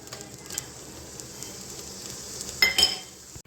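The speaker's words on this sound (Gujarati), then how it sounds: "તમે જોઈ શકો છો એકદમ સરસ રીતે જીરું તતડવા માંડ્યું છે." Cumin seeds sizzle in a heated pressure cooker for dal dhokali, a steady close crackle that builds into a louder burst of frying and a metallic clink near the end, with no talking.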